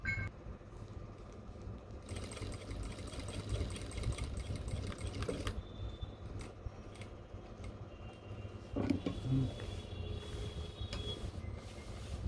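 Sewing machine stitching cargo pants, a faint steady mechanical whir with short bursts and stops of stitching and small clicks, quiet and close with no talk.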